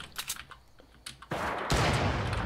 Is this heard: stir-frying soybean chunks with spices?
no